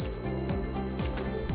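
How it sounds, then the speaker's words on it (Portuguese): An HTM Sonic Compact Maxx therapy unit sounds its end-of-dose alarm, a steady high electronic tone ringing alone over low pulsing sounds, close and clear. "o equipamento interrompe a dose automaticamente e o alarme indica que a aplicação terminou"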